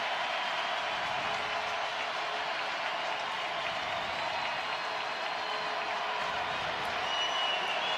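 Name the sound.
football crowd making noise at the Alerus Center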